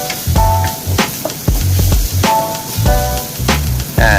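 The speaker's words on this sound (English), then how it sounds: "Now onion medium size chopped 1. Add and stir well" Chopped onion stirred in a hot pan for dal mastani, loud sizzling broken by repeated scraping and knocking of a spoon against the pan, close up with no speech.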